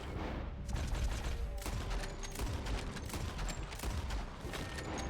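In Red Dead Redemption 2, rapid gunfire rings out in a dense volley of sharp cracks and booms, repeated shots overlapping through the whole stretch, loud and close.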